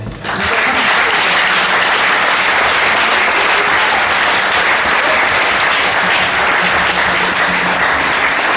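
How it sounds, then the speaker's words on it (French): A church congregation breaks into sustained applause and cheering at a worship service, a dense, loud wall of clapping that carries on steadily for the whole stretch with no pause. "On acclame le Seigneur."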